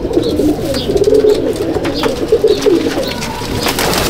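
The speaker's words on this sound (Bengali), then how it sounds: "কিছু পাঁঠা পায়রা আমি দেখাচ্ছি যেগুলো সেলে আছে" Several pigeons coo continuously inside a loft, overlapping soft rumbling calls rising and falling at close range with steady background bird noise and no speech.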